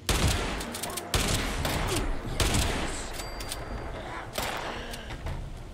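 Rapid bursts of gunfire from the Fallout 76 video game, including shotgun blasts, cracking repeatedly over several seconds at close range with a dense, sustained volley.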